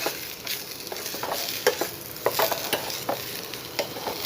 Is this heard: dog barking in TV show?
no